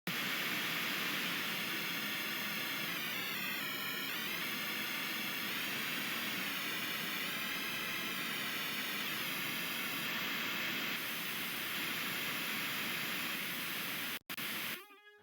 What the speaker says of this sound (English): it's just gonna play this pink noise